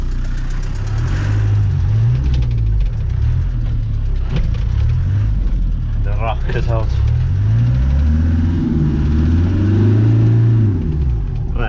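A farm vehicle in high reverse on tyres let down to about 10 psi revs to clean its treads, a loud, close, rising and falling engine roar, with someone speaking briefly over it.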